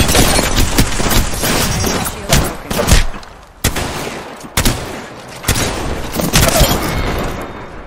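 Apex Legends gameplay with a frag grenade blast amid loud, dense gunfire: sustained bursts and booming explosions, with short dips between volleys and the firefight otherwise continuous throughout.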